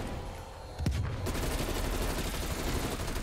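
Rapid automatic gunfire from Call of Duty Cold War Zombies erupts after a brief lull, a loud, dense fusillade of overlapping shots sustained to the end.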